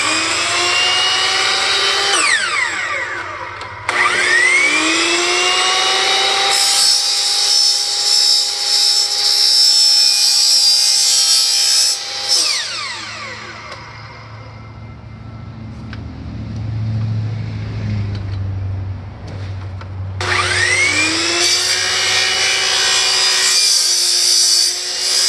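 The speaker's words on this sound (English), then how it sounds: "We put that shit on a miter saw." A miter saw cuts through a foundation vent in several long passes, each a loud, close, whining cut with a sliding pitch, separated by a quieter stretch of low rumble.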